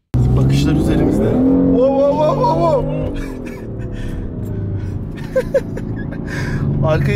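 A BMW M4 Cabrio accelerates hard with its rear sliding out, the engine note climbing loudly and up close before easing, while someone talks over it.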